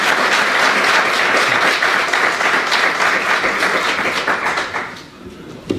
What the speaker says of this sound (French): S'il vous plaît, vous pouvez l'applaudir